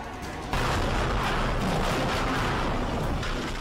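A Pinaka multiple guided rocket launcher firing rockets in succession, a sustained roaring rush that starts abruptly and holds dense and loud, with no voices.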